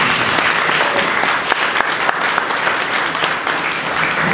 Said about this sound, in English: Can I give you some hand clapping?